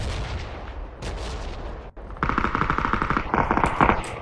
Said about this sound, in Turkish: Üf çatışma var.